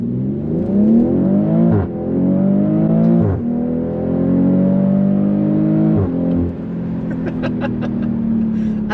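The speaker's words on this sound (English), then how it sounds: "Let's get an acceleration here," A BMW X3 M40i engine pulls hard through the gears, its loud rising drone climbing steadily and dropping briefly at each upshift, with a steady whir underneath and a few faint clicks near the end.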